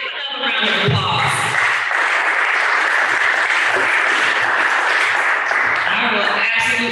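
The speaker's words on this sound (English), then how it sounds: "Give him another round of applause." A large audience at a city schools strategic planning summit breaks into sustained, loud applause that fills the room for several seconds, with a voice speaking briefly at the start and end.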